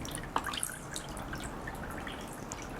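Water dripping and trickling onto the soil of a houseplant pot during watering, a steady soft patter with one brief sharper drip, close by and fairly quiet.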